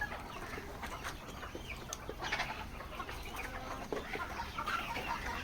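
Guinea fowl newly released on a poultry farm give faint, scattered clucking calls at a distance, quiet and unaccompanied by speech.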